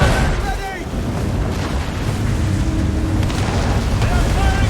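Naval cannon fire booms during a ship battle in the video game Assassin's Creed Rogue, with deep rumbling blasts, roaring wind and water, and distant crew shouts mixed in.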